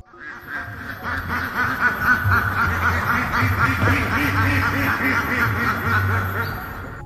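Repeated duck-like quacking calls, heard above a house at night, rising in a steady run of nasal honks that stay fairly loud and close throughout, with a chuckling, snickering quality and no talk over them.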